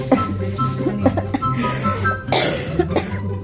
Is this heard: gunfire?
no